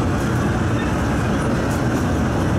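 Steady rumbling of a Hong Kong metro train in motion, a dense low roar filling the carriage without letup.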